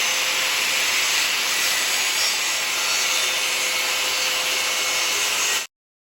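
A circular saw with a safety lock-off button cutting clamped half-cut plywood hardboard makes a loud, steady high whine and rush that holds evenly, then stops abruptly near the end, leaving silence.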